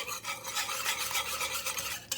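A whisk scrapes briskly around a bowl, mixing about a tablespoon of garlic into a sauce for crockpot pork chops. The rapid, continuous rasping and stirring is close and steady, with no talk.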